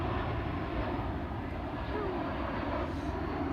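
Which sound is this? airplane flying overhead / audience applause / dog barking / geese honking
airplane flying overhead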